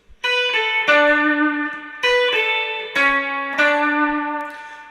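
Distorted electric guitar plays a solo of sustained, ringing notes with vibrato and bends in bursts of phrases, loud and close with heavy effects.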